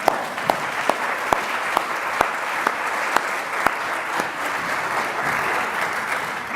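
A Sunday-morning church congregation gives steady, full-room applause lasting several seconds, dense clapping with a few sharper claps standing out, and no talking over it.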